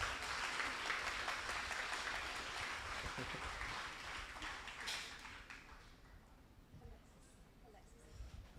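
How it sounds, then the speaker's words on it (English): Applause at a community healing awards ceremony honoring an absent council member, a broad wash of clapping from an indoor audience that is loud at first and gradually thins and fades toward the end. "give him a round of applause for helping healing communities"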